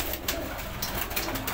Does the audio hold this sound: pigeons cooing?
yes